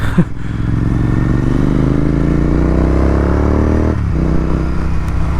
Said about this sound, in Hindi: तो कैट कैन ना हल्का वो गल गया होगा, उसकी वजह से भी लाउड हो रही है आवाज़